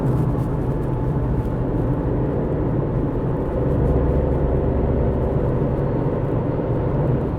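A Tata Tigor CNG car accelerates past 90 km/h, with a steady, loud engine and road drone from inside the cabin that holds constant throughout without any break.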